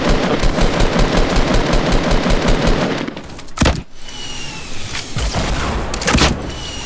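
Rapid automatic gunfire in the Fortnite video game, a loud close burst of steady fast shots for about three seconds, then a few heavier single impacts and clattering effects amid game noise.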